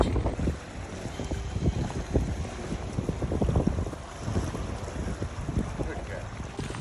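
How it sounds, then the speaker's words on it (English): Wind gusts across Cherokee Lake on a fishing trip, a steady, close rushing roar buffeting the microphone, with faint splashing of water underneath. "As you can see, the wind is blowing. You can probably hear it."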